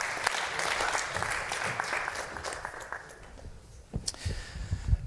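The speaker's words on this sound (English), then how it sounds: "Let's give Brian a round of applause." A congregation at a Friday evening Shabbat service applauds a man being honored, steady crowd clapping that thins toward the end into a few scattered, louder claps nearby.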